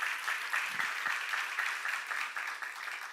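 A church congregation claps together at a seminar, producing a steady, even wash of applause with no pauses.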